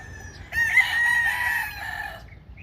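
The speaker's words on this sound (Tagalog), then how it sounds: "even more chickens" A rooster crows once up close, a single drawn-out call lasting about two seconds, with faint clucking from other chickens around it.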